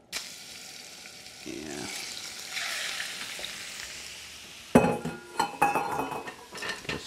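Shrimp going into hot oil in a pan, with a soft hiss giving way to a louder, crackling sizzle and metallic utensil clinks as they are stirred; a brief word is spoken.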